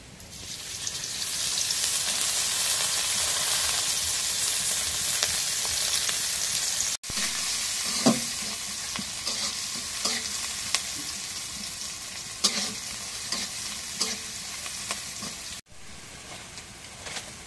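Chopped chili and onion fry in oil in a pan with a loud, continuous sizzle, broken by occasional stirring clacks and two brief cuts, with no talking.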